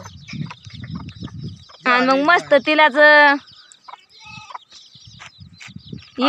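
Farm hens, including a black hen raising chicks, cluck and squawk loudly in a short burst. Someone talks before and after, and faint clucks come through during her speech.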